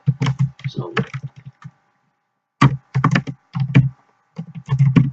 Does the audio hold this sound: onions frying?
no